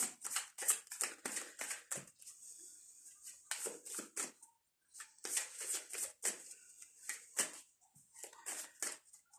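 Tarot cards are riffled and shuffled in quick, rustling bursts, two runs of rapid flicking separated by a brief pause, close to the microphone.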